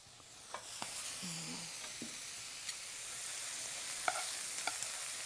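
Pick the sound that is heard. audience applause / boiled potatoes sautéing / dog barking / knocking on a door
boiled potatoes sautéing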